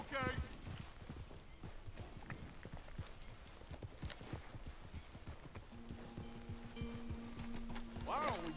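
Horse hooves clip-clop at a walking pace in Red Dead Redemption 2, a steady run of close, regular thuds with talk over them and a brief whinny near the end.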